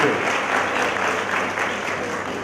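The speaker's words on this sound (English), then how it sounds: "You should show your presence by clapping." An audience claps at a pharmacy college graduation ceremony, a dense, even wash of applause from many hands, steady and fairly loud for a couple of seconds without speech.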